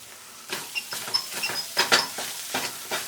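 Vegan sofrito sizzles and crackles in a pan, with irregular stirring scrapes and spoon clinks spread across the span at moderate loudness, no voices present.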